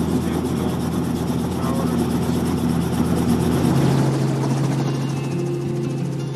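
A tour helicopter flying over the Okavango Delta wetlands, its steady loud rotor thrum and engine drone filling the cabin, with the pitch shifting slightly partway through.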